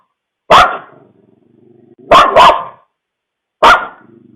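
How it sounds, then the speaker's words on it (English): A dog barks from a home security camera's vantage: one sharp bark, then a quick double bark, then another single bark, loud and close, with quieter low grumbling in the gaps. "we can hear the dog barking at something"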